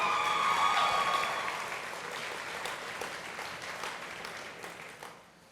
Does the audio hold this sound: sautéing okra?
no